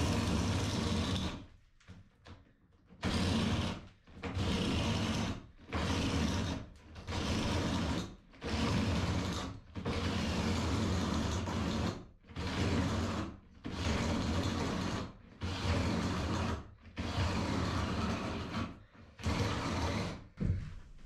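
Older cordless power tool running on a 3 amp-hour Metabo HPT MultiVolt battery on high while struggling through 1-inch material, with repeated loud, grinding, ratcheting bursts of a few seconds each separated by short pauses.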